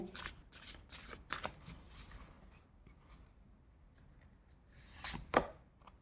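Tarot cards are shuffled and drawn in quick bursts of crisp riffling and flicking, with a quieter pause in the middle before a final snap of cards, close and alone without talk.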